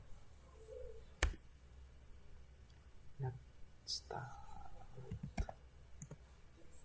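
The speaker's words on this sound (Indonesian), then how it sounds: "Kita coba ketikkan netstats." Scattered keyboard clicks sound as a computer command is typed, a few sharp taps spread out at a moderate level over a quiet room.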